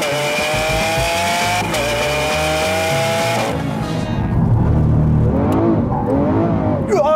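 A Lamborghini Aventador SV's engine revs loudly and close, rising and falling through throttle blips, then dropping to a rumbling, lower burble before climbing again; the sound runs alone without talk.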